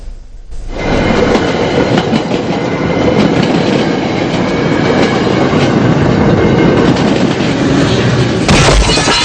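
A loud train rumbles past close by on the Colombo-Puttlam line in Sri Lanka, with rhythmic clickety-clack of wheels over the rails and a brief screech near the end.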